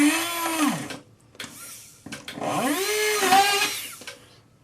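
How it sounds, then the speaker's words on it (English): A small power drill fitted with a waxed 1 mm bit bores into metal jewelry to make seats for faceted stones, in two close, loud bursts, each whining as the bit spins up and winds down. "So drill all three."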